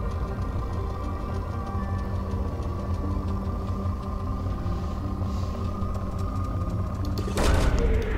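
Probe launch in Mass Effect 2, a sudden loud whooshing burst near the end over a steady droning ship hum and low rumble.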